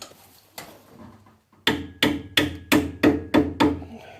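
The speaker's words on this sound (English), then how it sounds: "Need a little bit of hammer action." Hammer blows on the rear brake of a DB52T Suzuki Carry truck: two scattered taps, then a rapid run of seven loud, evenly spaced metallic strikes, close and clear.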